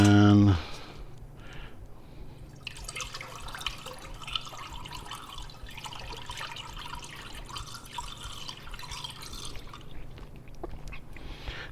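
Liquid from churned raw milk pours from a blender into a bowl, a continuous soft splashing trickle with small drips, heard alone after a brief low thump at the start.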